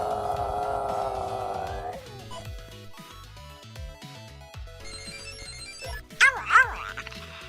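A dog barks as a stream redeem sound effect, a few yips and barks near the end after a ringing electronic tone fades, loud and close over quiet background.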